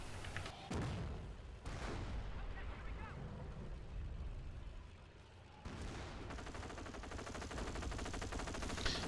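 Machine-gun fire from MG nests in a World War II-style video game, steady rattling bursts with heavy booms and a dip in the middle, under someone talking throughout.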